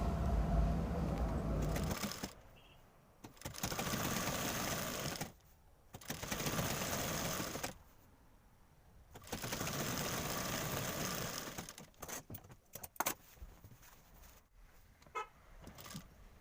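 A sewing machine stitches the flared gher panel onto the front of an anarkali gown, running close by in repeated bursts of about two to three seconds separated by short pauses, with no talk.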